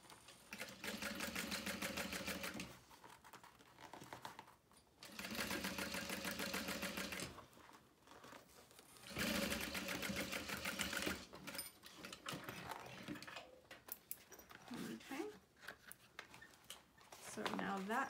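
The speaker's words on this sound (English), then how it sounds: "make sure you're stitching through that seam too, because that's gonna give it a little" A sewing machine stitching the seam of a leather make-up bag, quick rattling bursts of stitching separated by short pauses, faint and close, with a voice talking during the gaps.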